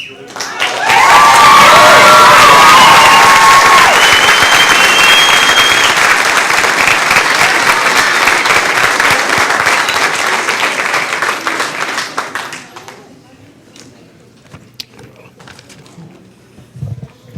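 Audience at a school board meeting applauding a high school varsity football team, a loud, sustained roar of clapping and cheers with whistles early on, lasting about twelve seconds before dying away into quiet room murmur.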